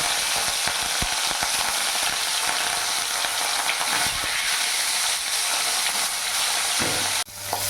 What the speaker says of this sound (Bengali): তেল গরম হয়ে গেছে, এবার মাছগুলো আমি দিয়ে দেবো।